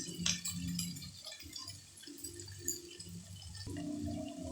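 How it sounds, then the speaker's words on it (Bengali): Water trickles from a tap into a pan of ground cumin and coriander for a soybean and potato curry, a light splashing pour lasting a few seconds close by under kitchen background noise, with no talk. "সামান্য একটু জল দেবো।"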